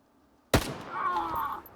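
A single sharp gunshot cracks after a brief silence in the video game STALKER 2, followed by a lingering echoing tail and faint electronic tones.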